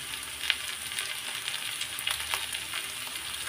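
Fish tails hit a hot pan of fried onion and green chilies and sizzle steadily. The frying hiss is close and continuous, with a few sharper crackles and pops and no talk.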